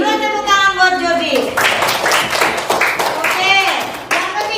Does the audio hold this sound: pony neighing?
no